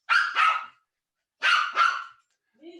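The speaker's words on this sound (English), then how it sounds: "Unlike my dog, who has decided that it's time to bark." A dog barks in two quick double bursts, close and fairly loud, with silence between them and a faint short sound at the end.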